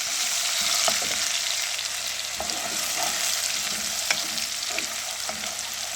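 Steady sizzling of onions, ginger, garlic and chopped green chilli frying in a pan for lauki chana dal, with a continuous hiss and occasional light stirring clicks, close by and fairly loud.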